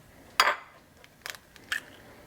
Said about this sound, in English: now I'm gonna get a bowl out and I'm gonna crack the eggs into it